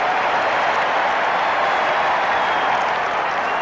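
A 52,000-strong stadium crowd in Tokyo's National Stadium roars and applauds in a dense, steady wall of cheering that holds loud and unbroken throughout.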